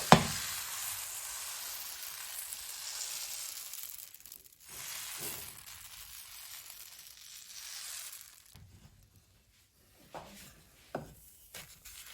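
Ground-beef pancake batter sizzling in a large frying pan, a soft close crackle that runs steadily, drops out briefly, resumes, then fades to near silence with a few light scraping knocks at the end.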